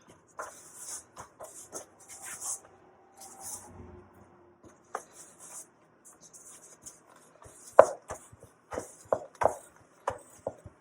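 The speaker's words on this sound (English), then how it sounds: "there's no wrong way to knead the dough" Bread dough for an everyday loaf being kneaded by hand: irregular soft thumps, presses and rubbing strokes close by, growing firmer and more frequent toward the end, with no talk.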